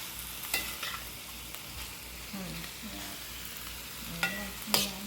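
Sauerkraut for vegetable lumpia stir-fried over high heat, a soft continuous sizzle with occasional sharp spatula clicks and scrapes against the pan, close by and fairly quiet.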